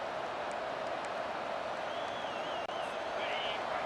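Stadium crowd roaring in a Michigan State versus Ohio State college football video game, a steady dense wall of cheering with faint whistles, loud and continuous with no breaks.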